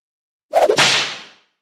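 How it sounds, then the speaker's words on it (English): A whip sound effect fired from a Roadcaster gives one sharp, close crack followed by a quick swishing tail that fades within about a second, heard alone. "He loves the whip sound Yeah, effect."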